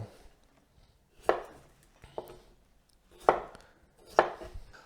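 Knife chopping potato into wedges for Spanish tortilla on a board, four distinct close cuts spaced about a second apart.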